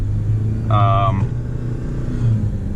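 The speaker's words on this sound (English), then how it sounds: "So in 4 low, Jesus, it is really low, as you can see, really torquey" A 2023 Jeep Wrangler 4xe Sahara crawling in 4 low gear, its low engine rumble steady and close under a brief harmonic whine, with a person talking over it.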